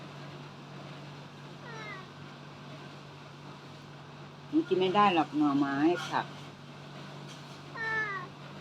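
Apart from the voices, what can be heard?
cat meowing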